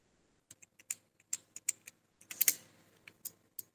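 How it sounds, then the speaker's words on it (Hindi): Someone types on a computer keyboard, a quiet, irregular run of separate key clicks with brief pauses and a short faster burst in the middle, with no voices. "स्टूडेंट का जो एड्रेस है वो आप यहाँ पे टाइप कर देंगे"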